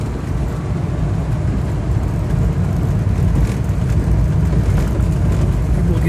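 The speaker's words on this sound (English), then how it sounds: "listening to this car hit the bumps all over the road" A 1965 Imperial LeBaron rolls along a bumpy country two-track with a steady low rumble and road noise, and the body jolts and thumps over the ruts from inside the car.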